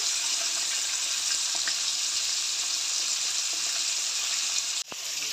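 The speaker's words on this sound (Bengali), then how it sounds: "ওদিকে মাছ ভাজা হচ্ছে" Tilapia pieces frying in a pan, a steady, bright hiss of sizzling oil heard close, ending with a short knock and a drop in level near the end.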